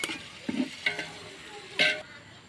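Ingredients sautéing in a pan, a faint sizzle broken by a few scattered stirring scrapes and clinks close by, quiet and intermittent, with no voices.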